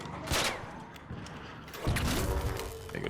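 A Rascal grenade launcher in ARC Raiders fires at a Rocketeer's thruster, giving dense, heavy bursts of shots and impacts that crash over a rumbling game backdrop, with a second louder barrage partway through.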